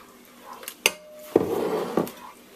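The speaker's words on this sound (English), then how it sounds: "Remove the pan from the heat and quickly stir in the fruit mixture." Peach freezer jam is stirred in a pan off the heat as fruit mixture goes in, with a couple of sharp metal clinks of spoon on pan and a brief scraping, wet stir between them, close and quiet.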